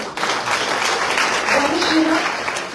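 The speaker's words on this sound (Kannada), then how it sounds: "ಜೋರ್ ಚಪ್ಪಾಳೆ ಹೊಡೀರಿ" Audience applause at a stage function attended by a swamiji, a brisk, fairly loud burst of clapping from a crowd with voices mixed in underneath.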